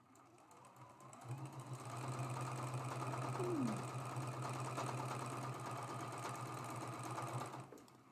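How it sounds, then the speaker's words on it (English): A sewing machine runs steadily for several seconds, stitching a quarter-inch seam on a traditional quilt block, with a constant mid-pitched motor hum and rapid needle clatter and no talking. "Now we're going to take that to the sewing machine and sew that with a quarter inch seam allowance."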